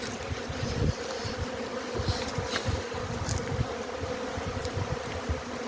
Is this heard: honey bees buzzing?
yes